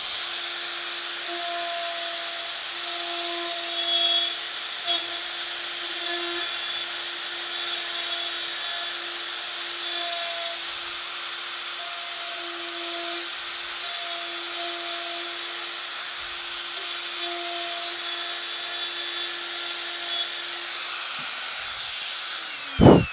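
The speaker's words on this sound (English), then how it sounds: "I'm holding the router on the base, so I'm keeping it firmly pressed down on the base of the baseboard" A router held firmly down on its base as it cuts flutes in wood on a fluting jig, giving a steady, near, high whine that runs the whole time with little change and no talk.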